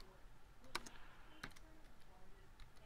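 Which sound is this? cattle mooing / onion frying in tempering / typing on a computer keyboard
typing on a computer keyboard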